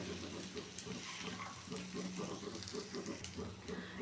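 Soaked sago fries and is stirred in ghee in a pan, a soft continuous sizzle with faint scraping strokes, close and quiet.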